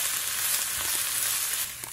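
Shrimp heads and shells sizzle steadily in a wok of hot oil with ginger slices, a loud, continuous hiss-crackle close up with no voices.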